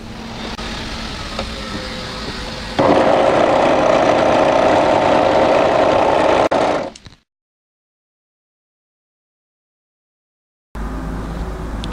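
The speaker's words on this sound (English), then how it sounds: "I'm just going to overlock that sleeve hem as well" An overlocker hems the sleeve of a winter tee dress with a steady, close motor whir. It surges louder partway through, cuts off abruptly into silence, then starts up again briefly at the end.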